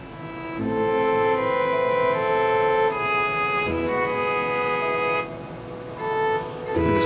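Synthesized fiddle-like melody over plucked pizzicato double bass and bell-like celeste, a sustained layered arrangement at steady loudness that dips briefly near the end, with no voices.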